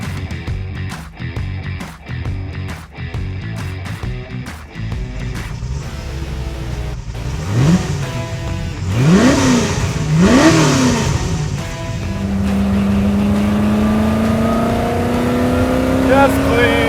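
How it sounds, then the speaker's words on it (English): Heard from inside the cabin of a Ford GT40 Mk II with no sound deadening, a loud race car engine revs and climbs through several gears, pitch rising and dropping with each shift. "It's loud because this car doesn't have any sound deadening"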